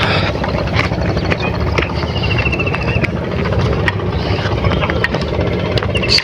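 A boat engine idles steadily on a river near a char island, a continuous low rumble filling the scene with faint background noise and no speech.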